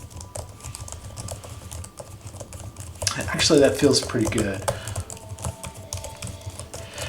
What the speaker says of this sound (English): let's test out the keyboard here.